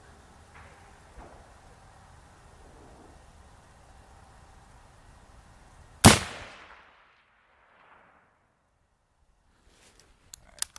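A single sharp, loud gunshot from a military surplus rifle cracks out, its heavy muzzle blast booming and fading into a short echo, after faint ambient noise, followed by near silence and small clicks.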